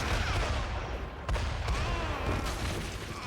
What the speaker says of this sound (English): Plus something's shooting. Something's blowing it up too.